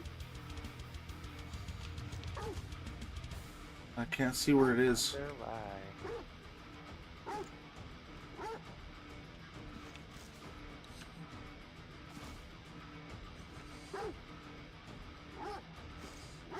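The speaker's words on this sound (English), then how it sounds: "I don't like hearing a dog." Dog barking in the Necromunda: Hired Gun video game, a few short yips and barks around the middle amid steady game ambience, with a player talking over it.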